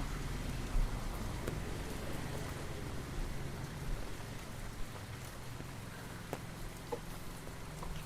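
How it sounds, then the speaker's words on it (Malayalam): Light rain patters steadily outside a home, a soft, continuous hiss with a few scattered louder drops and faint taps, no voices, quiet and even throughout. "നല്ല മഴച്ചാറ്റിലുണ്ട് കേട്ടോ"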